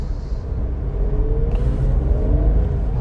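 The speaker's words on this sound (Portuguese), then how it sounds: "vocês conseguem perceber aqui pelo barulho que realmente o motor berra bastante" A car engine roars loudly from inside the moving car, a heavy, steady rumble that strains and rises slightly as the car picks up speed on the road, with no voices.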